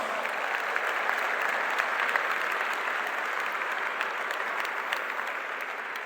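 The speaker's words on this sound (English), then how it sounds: "Let's give our choir members one more round of applause." Steady, dense applause from a graduation ceremony audience honoring graduating school choir members, a continuous crackling wash of clapping holding at an even level throughout without pauses.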